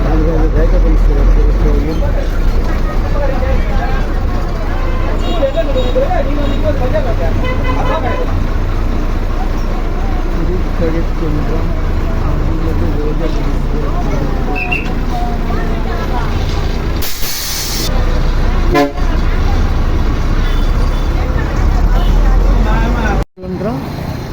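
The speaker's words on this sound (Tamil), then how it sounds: "பேருந்து நிலையம் இது பக்கத்தில் ஒரு பெட்ரோல் பங்க் இருக்கும்" Busy bus station in Thirukalukundram, with horn toots and passing bus and road traffic around a steady engine din, while someone talks over it throughout.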